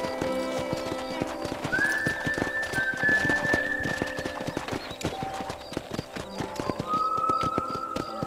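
Hoofbeats of a horse clip-clopping at speed in the Red Dead Redemption video game, steady and close, with brief whinnies and musical tones layered over the rhythm.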